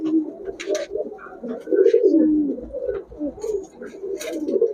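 Red checker pigeons coo in low, throaty rolling bursts, nearly continuous and fairly close, with a few brighter chirps and flutters mixed in.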